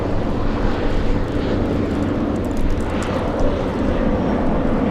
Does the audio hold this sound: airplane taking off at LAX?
yes